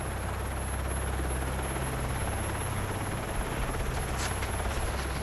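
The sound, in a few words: helicopter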